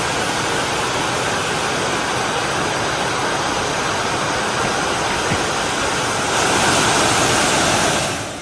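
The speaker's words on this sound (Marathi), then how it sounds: "त्या तलावाच्या सांडव्यावरून पाणी पडताना आता पाहायला मिळतंय" A steady, loud roar of water pouring over a lake dam spillway in Satara district, India, during heavy rain, rushing continuously with no pauses and swelling slightly near the end.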